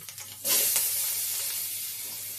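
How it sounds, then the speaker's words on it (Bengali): Potatoes hit hot oil seasoned with black cumin and green chilli, bursting into a sudden loud sizzle that settles into a steady frying hiss, close and alone without talk. "আলুটাকে দিয়ে ভালো করে নেড়ে চেড়ে নেব। ভালো করে আলুটাকে ভেজে নেব।"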